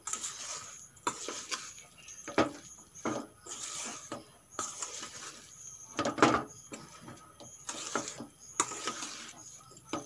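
Lentil kebab mixture being mixed with crumbs of toasted bread in a bowl, giving a run of irregular scraping, clinking and rubbing bursts close by, with no talk.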